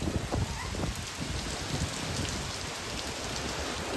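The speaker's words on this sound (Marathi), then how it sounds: "हे बघा मे मध्ये पाऊस." Rain falls steadily outdoors in May, a dense, even patter on surfaces with scattered nearer drops across a few seconds and no talking.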